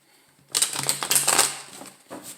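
A deck of tarot cards is shuffled by hand in a burst of rapid, crisp riffling and slapping, close and moderately loud, before fading to a soft final rustle.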